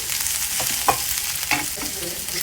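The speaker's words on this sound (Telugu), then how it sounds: "వేయించి పెట్టుకున్న ప్రాన్స్ వేసుకొని ఒక 2 నిమిషాలు మాత్రమే కలుపుకోవాలి." Fried prawns being stirred in a frying pan, with a steady sizzle and a few distinct scraping strokes of the spoon, close up and without talk.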